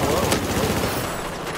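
Dense gunfire from Battlefield 4 multiplayer, a loud continuous burst of rapid shots and rattling fire filling the whole moment, with voices faintly underneath.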